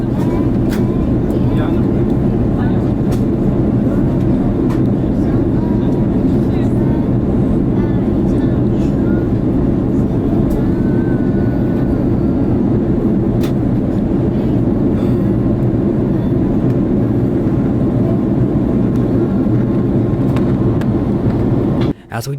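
Inside a Lufthansa Airbus A330-300 descending into Frankfurt, a loud, steady low cabin roar and engine drone continues unbroken, with faint ticks and a voice heard now and then over it.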